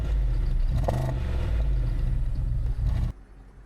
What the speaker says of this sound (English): Here she comes, running and driving. This is that lovely V8.